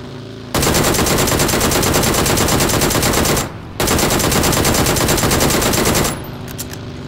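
Rapid automatic gunfire in the video game PUBG, loud and close, in two long sustained bursts separated by a short pause, with no talk over it.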